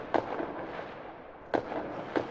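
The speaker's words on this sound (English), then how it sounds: "With candy raining down on the crowds, Little Lobo sets off his fireworks." Fireworks bursting during a children's story about a festive celebration, with candy and piñatas: three sharp, loud cracks, one near the start and two close together toward the end, each with a short rumbling tail over a faint background.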